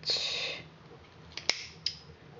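Scissors snipping yarn beside a knitting loom, a few sharp, close clicks of the blades following a brief rustle.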